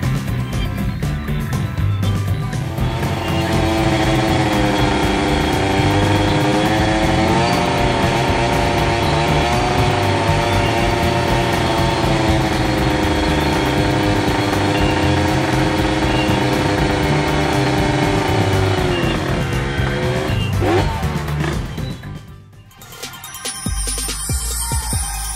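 A motorbike does a tyre burnout with the engine held at high revs in a loud, sustained buzzing roar for about twenty seconds before it cuts off abruptly near the end.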